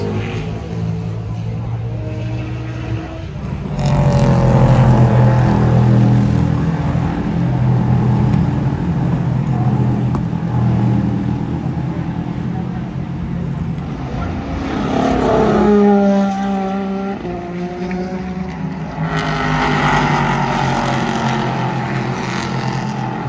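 Race cars in the Sahlen's Six Hours of The Glen race thunder through the Bus Stop chicane at Watkins Glen, engines roaring and revving as several pass in loud waves, with people talking over the noise.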